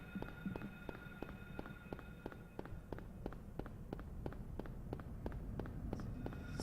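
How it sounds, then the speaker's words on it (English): Steady, evenly paced footsteps from the Silent Hill video game, roughly two or three crisp steps per second, continuing without pause over a low rumbling ambient background. "Really got some mileage out of those footstep sound effects"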